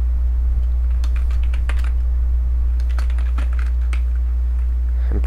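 Steady, fast typing on a computer keyboard while code is entered, with dense clicks and occasional sharper key strikes over a constant low electrical hum, close to the microphone and without speech.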